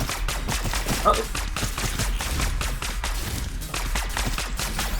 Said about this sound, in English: those are Jack's grenades